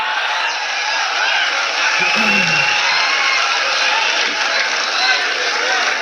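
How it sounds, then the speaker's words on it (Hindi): An audience at a mushaira in Dubai applauds and cheers continuously to welcome a poet to the stage, a dense, steady wash of clapping with scattered shouts. "एक बार जोरदार तालियों से बुलाया जाए शकील आजमी साहब को"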